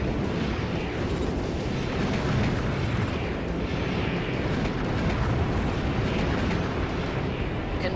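A destroyed landcraft blows up in Armored Core 4 Answer, a loud, steady roaring rumble that keeps going without letting up for several seconds.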